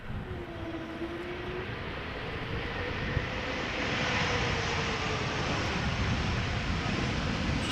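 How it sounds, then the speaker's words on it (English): An Embraer 195 E2 jet airliner lands at Amsterdam Schiphol with a sustained, rising engine roar that grows louder and fuller as the aircraft nears, heard from a distance with no voices. "The airworthy fleet of the Embraer 195, the E2 Embraer 195s coming in."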